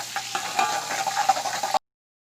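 Garlic ginger paste sizzles and is stirred in a pot while browning for chicken biryani, a steady close frying crackle with scraping strokes and no talk, ending abruptly.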